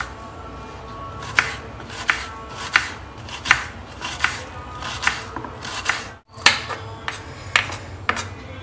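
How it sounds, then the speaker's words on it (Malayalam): Knife chopping onions for a Kerala thoran, a series of sharp regular cutting taps on a board, close and moderately loud, with a brief pause midway and no talking. "ഇനി നമുക്ക് തോരനിലേക്ക് വേണ്ട സവാളയൊക്കെ ഒന്ന് അരിഞ്ഞെടുക്കാം."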